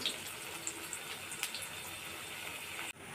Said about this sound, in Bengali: উল্টিয়ে পাল্টিয়ে লাল লাল করে একটু সময় নিয়ে ভাজবো বন্ধুরা।